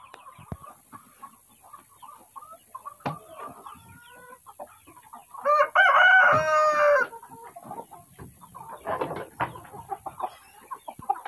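Egg-laying hens in a backyard flock cluck and chatter intermittently nearby, and a rooster lets out one loud, drawn-out crow in the middle before the scattered clucking carries on.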